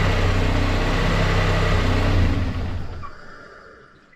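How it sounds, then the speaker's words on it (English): A GT35 turbo's turbine spinning down after the engine is shut off: a loud, steady whirring whine holds for about two seconds, then steadily fades and thins out to near silence. "I want to go ahead and shut it off and see how long it takes for the turbine to stop spinning."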